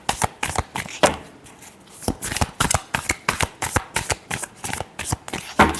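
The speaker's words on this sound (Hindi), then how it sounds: "last shuffle" Close, brisk shuffling of a tarot deck: cards slap and riffle together in a rapid, uneven string of dry flutters, one after another, with no voices.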